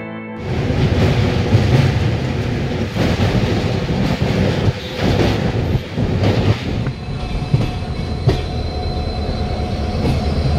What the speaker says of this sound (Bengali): এখন ট্রেনটি যে ব্রিজটি পার করছে সেই ব্রিজটির নাম হলো কোলাঘাট রেলওয়ে ব্রিজ